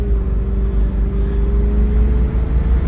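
A 1961 Cadillac Sedan Deville drives on a paved road, its engine a loud, steady low rumble from inside the car with a rising tone as it pulls.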